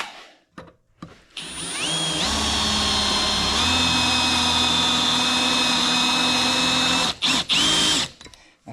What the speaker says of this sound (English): I started pre-drilling the heads